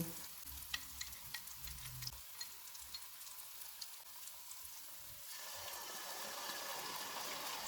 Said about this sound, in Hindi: इसमें 3 टेबल स्पून पानी डालेंगे और मिक्स करके डाल देंगे।